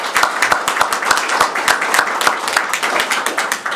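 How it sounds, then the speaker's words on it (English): A small group claps at a city council business meeting, individual sharp claps clearly audible in a quick, uneven rhythm, fairly close and moderately loud for a few seconds. "So if we could give them a round of applause."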